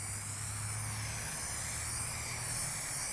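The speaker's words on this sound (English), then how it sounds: "you're gonna get your spray paint, you got your grill down, and what you wanna do is start with very light coats right over the top" Spray paint hisses in a continuous, even stream as a light coat is applied over an in-wall speaker grille, close and steady throughout with a faint low hum underneath and no talking.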